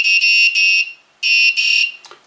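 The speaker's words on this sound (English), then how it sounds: "So I've uploaded the sketch to my Arduino with our melody" A piezo buzzer driven by an Arduino beeps out a short melody, bright loud electronic tones in quick bursts with a pause midway and a final clipped blip.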